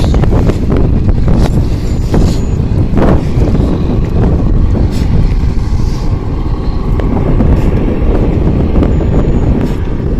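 Strong wind buffets the microphone outdoors beside prawn farm ponds, a steady, loud rumbling roar with gusty bursts that fills the clip without any talk.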